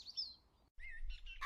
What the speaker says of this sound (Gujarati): ચકલી બહેન અને મીનુ માસીની જોડી રંગબેરંગી પાંખો ફફડાવતી, મધુર કલરવ કરતી બજાર તરફ ઉડાન ભરી રહી હતી.